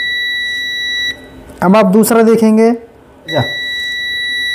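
Continuity-test beep from a multimeter probing a circuit line on a mobile phone board during chip-level repair, a steady tone sounding before and after a stretch of speech that interrupts it.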